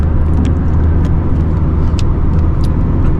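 A Lamborghini Murcielago engine runs as a loud, steady roar with a deep low rumble that holds for a few seconds, with no one talking.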